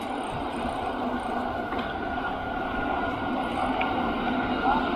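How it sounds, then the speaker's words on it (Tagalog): Train passing near a bike ride by Makuhari Beach in Chiba, Japan, heard as a steady, moderately loud rumbling roar across the whole stretch, with no talking. "Train."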